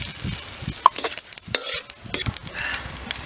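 Cinnamon and cloves crackling in sesame oil with mustard seeds, brisk stirring scrapes and spatters over a sizzling pan, close and uneven.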